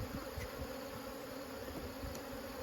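Honey bees swarming around backyard hives, a faint, continuous buzzing drone with individual bees passing close by, steady throughout with no talk.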